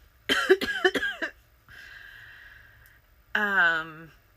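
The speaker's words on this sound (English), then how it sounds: "The cough has reappeared." A burst of several harsh coughs close to the microphone, a pause with a soft breathy sound, then a short voiced groan.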